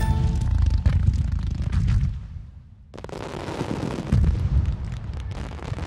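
Fireworks bursting in a dense barrage of loud booms and crackles, with a brief near-silent lull midway before another heavy volley resumes.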